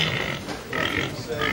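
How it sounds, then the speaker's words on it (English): A pig grunts in a comedy scene, with snorting, rough grunts coming in bursts close by under faint background noise. "Bring the pig hither."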